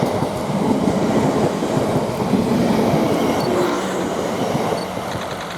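A South Western Railway passenger train pulls away from Brockenhurst station, its wheels and rolling stock giving a steady, loud rumble with faint clatter that holds for several seconds before easing slightly at the end.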